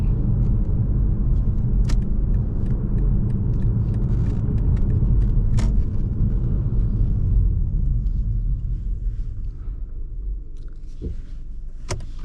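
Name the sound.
2024 BMW 530i four-cylinder car driving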